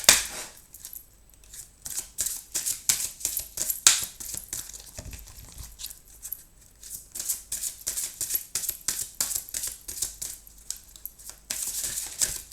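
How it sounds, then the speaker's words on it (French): Tarot cards are shuffled and drawn by hand: a long run of rapid, crisp flicking and slapping clicks, close and steady, with a denser riffle near the end and no voices. "Je vais vous tirer 3 cartes."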